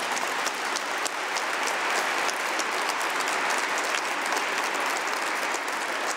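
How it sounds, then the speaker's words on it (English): Sustained applause fills a large audience hall at the close of a lecture on leadership, dense steady clapping from a big crowd that stays loud and even throughout with no voices on top. "One more round of applause."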